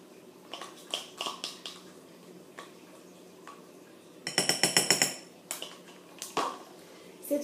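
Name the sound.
stirring a hair care booster preparation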